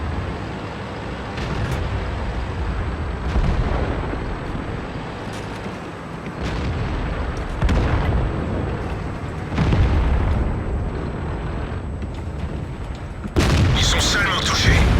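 Booming explosions and artillery fire from the World of Tanks video game, with several heavy thuds spread through a dense, continuous battle din and a sharper burst near the end.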